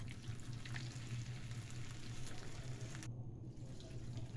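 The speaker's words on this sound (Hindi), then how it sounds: "इसी तरह मैंने सारे पीसेस को फ्राई कर लेंगे देखो नेक्स्ट टाइम भी ऐसी तरह ही फ्राई किया मैंने" Chicken lollipop pieces deep frying in hot oil, a dense continuous bubbling hiss with a low rumble, steady and close before it abruptly thins out near the end.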